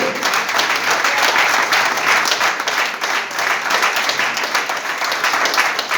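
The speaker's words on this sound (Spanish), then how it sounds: "Un aplauso al que vive." A Spanish-speaking church congregation bursts into sustained applause during a sermon, a thick, even wall of clapping that holds at full strength throughout.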